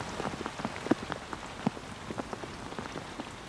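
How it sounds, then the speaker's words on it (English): Rain falls at sea off an Indonesian reef where fishing boats lie at anchor, a steady patter with scattered louder drops striking nearby surfaces, no voices. "The rain starts to fall. The wind picks up."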